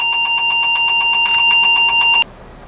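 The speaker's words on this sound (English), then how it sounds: "If that beeping doesn't stop by itself, just press any other key on the keyboard and it will stop" A rapid string of short, high electronic BIOS beeps from a Fujitsu Siemens Esprimo computer, repeating evenly for about two seconds, then stopping abruptly, leaving a faint hum.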